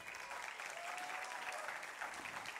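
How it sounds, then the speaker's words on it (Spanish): Steady audience applause rises at a Costa Rica beauty pageant after a judge is introduced, quieter and slightly distant, a continuous wash of clapping with no break over its short length. "Fuerte el aplauso."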